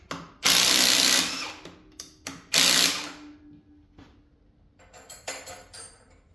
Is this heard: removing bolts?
yes